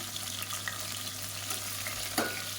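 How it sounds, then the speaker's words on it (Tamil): Masala spices frying in oil in a pan while onions soften for a mutton or chicken biryani, giving a steady soft sizzle with faint stirring scrapes and one brief clink near the end. "மசாலா வந்து பொரிய ஆரம்பிக்குது"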